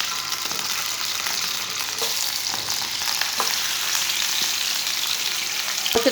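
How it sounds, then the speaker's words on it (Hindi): A kilo of goat meat fries in hot oil with a steady, dense sizzle and occasional crackles and stirring scrapes, close and continuous with no voices. "गोश्त डाल के इसे 2-3 मिनट के लिए फ्राई कर लेंगे"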